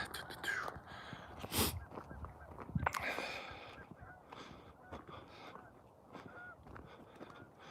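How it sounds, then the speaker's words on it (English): Geese honking near a lake with a large island, their calls loudest in a sharp burst early on and then scattered and fainter, mixed with breathy voices and light outdoor background noise. "those are geese down there"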